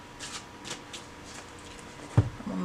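Soft riffling and flicking of a tarot card deck, a few quiet shuffles followed by a sharper tap of cards near the end, close and low in level.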